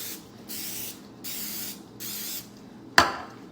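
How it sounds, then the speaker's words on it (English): Cooking spray misted over keto tortilla chips: three steady hissing bursts of about half a second each, close up, followed by a sharp clack like the can being set down. "all I'm gonna do is spray them"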